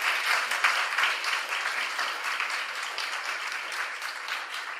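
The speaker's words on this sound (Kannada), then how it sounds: "ಜೋರು ಚಪ್ಪಾಳೆ ಬರಬೇಕು." Loud, sustained applause from a concert audience at a birth anniversary celebration for Carnatic musician KV Narayanaswamy, dense clapping filling the hall evenly throughout.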